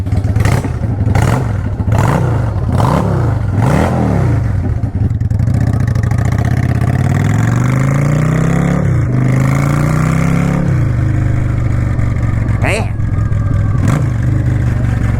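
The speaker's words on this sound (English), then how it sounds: "That is the raw sound of the V-Star 650." A straight-piped Yamaha V-Star XVS 650 cruiser motorcycle, loud and close, first blipped in several sharp revs, then pulling away with rising and falling engine pitch through gear changes.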